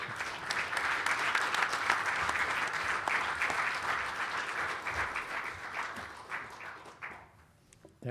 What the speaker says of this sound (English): That really requires a big applause.